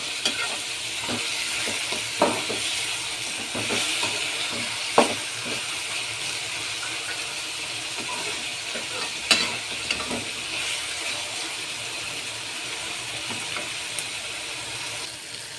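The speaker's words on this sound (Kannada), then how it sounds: "ಟೊಮೆಟೊ ಎಲ್ಲ ಚೆನ್ನಾಗಿ ಫ್ರೈ ಆದಮೇಲೆ ಚನಾಗ್ ಫ್ರೈ ಆಗಬೇಕು" Tomatoes frying in oil in a pan for Belgaum-style maize upma. A steady, bright sizzle runs throughout, broken by occasional sharp scrapes and clacks of stirring, with no voices.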